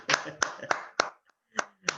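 A single person claps hands several times in a slow, uneven rhythm, sharp and close, with a short gap partway through.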